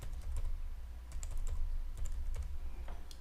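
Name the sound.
typing on a computer keyboard in Excel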